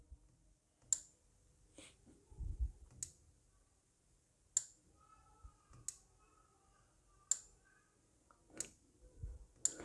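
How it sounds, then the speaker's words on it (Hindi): Sharp relay clicks from a GPS tracker's ignition control for a bike or car ring out about seven times at irregular intervals, crisp and close against a quiet background. "अगर मैं इस बटन को दबाऊंगा तो आपको एक टिक की आवाज़ आएगी जो कि रिले की आवाज़ है।"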